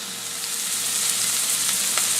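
Ground beef for burgers fries in a pan with a steady, bright sizzle that swells slightly toward the end, close and fairly loud, with no voices.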